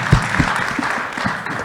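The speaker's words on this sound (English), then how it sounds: "Can we just have a clap for that?" Audience applause at a fireside chat, a short loud burst of clapping with low thumping hits near the start, fading over under two seconds.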